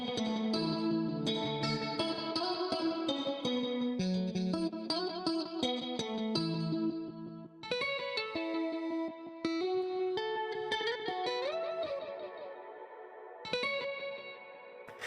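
Music processed through the Baby Audio Spaced Out effect plugin, with wide, echoing, chorus-like layers and distorted texture, loud and continuous with brief breaks, fading toward the end.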